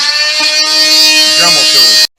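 A Dremel rotary tool cutting mobile home flooring right up against the wall lets out a loud, steady high-pitched whine that holds for about two seconds, then stops abruptly.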